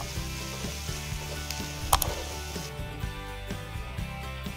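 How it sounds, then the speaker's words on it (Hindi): Pieces of raw turmeric and mango ginger fry in a pan for a village-style chutney, giving a steady, moderate sizzle with light stirring scrapes and one brief sharp clink, with no talking. "अब हम कच्ची हल्दी और आंबा हल्दर के टुकड़े डालेंगे"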